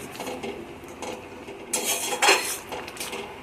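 A spoon scrapes and clinks against a pan while pumpkin greens and lentils are mixed, a few short metallic rasps with a louder clatter partway through, close by and without speech.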